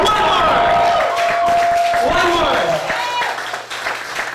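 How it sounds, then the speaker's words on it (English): A concert audience at The Casbah in San Diego claps for an encore at a tribute show, a steady wash of applause running under loud talking voices. "He can't hear you unless you clap really loud."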